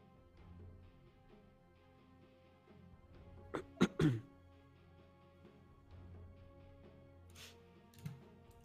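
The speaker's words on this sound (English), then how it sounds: "I'm coughing like a tuberculosis patient today" A commentator coughs during a Dota 2 esports league broadcast, with two sharp, close coughs in quick succession over a low hum, then a faint throat sound later.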